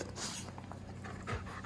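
A dog pants close by in quick, breathy bursts, with a faint whimper-like tone partway through.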